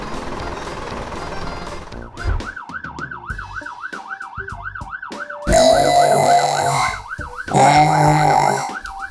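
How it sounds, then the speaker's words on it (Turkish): A wailing ambulance siren in a Transformers video game rises and falls steadily, loud and electronic-sounding, joined midway by bursts of bright noisy game effects. "anne bir ambulans mı geldi?"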